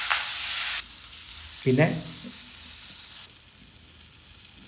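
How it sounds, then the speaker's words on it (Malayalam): Spices with coriander powder sizzle loudly in a hot pan, then a spoon scrapes and stirs briefly as the frying hiss eases. A voice speaks a single word. "പിന്നെ മല്ലിപ്പൊടി അത് ചേർത്ത് നന്നാക്കി നിന്ന് ഇളക്കി കൊടുക്കാം"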